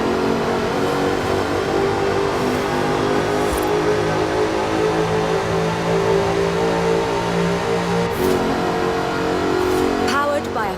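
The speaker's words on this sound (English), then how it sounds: "By a 5-litre V8 supercharged engine" Supercharged 5-litre V8 in an aluminium-bodied British sports car in Forza Horizon 4, a steady loud engine drone under continuous narration, with a couple of brief rev surges.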